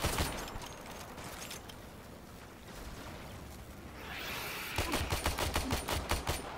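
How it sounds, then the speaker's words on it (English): Assault rifle gunfire in Warframe: a dense roar of shots early, then a rapid, evenly spaced burst of loud, punchy shots toward the end, with no voices. "screw the assault rifle I'm using"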